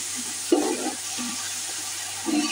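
Masala and oil go into a frying pan with a soft sizzle and a few stirring scrapes, fairly close and steady with brief louder bursts.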